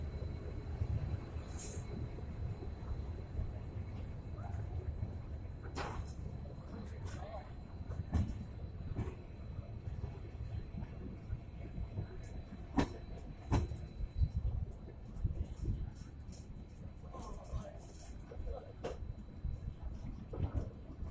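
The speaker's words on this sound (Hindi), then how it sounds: "और ट्रेन ने स्पीड देना शुरू कर दिया है।" Steady rumble and clatter of the CSMT Rajdhani Express (22221) picking up speed after Agra toward Nizamuddin, heard from inside a carriage, with faint voices and occasional bumps as it rolls along.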